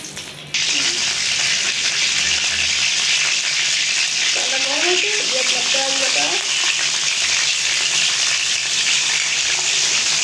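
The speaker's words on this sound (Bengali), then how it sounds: "কড়াইটা গরম হয়ে গেছে তেল দিয়ে দিই তেজপাতা গরম মশলা দিয়ে দিলাম" Bay leaf and whole garam masala dropped into hot oil in a kadai, a loud, steady sizzle that erupts suddenly and keeps crackling, with a brief murmur of a voice near the middle.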